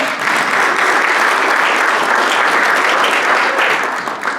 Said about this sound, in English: big round of applause for Bill Quinn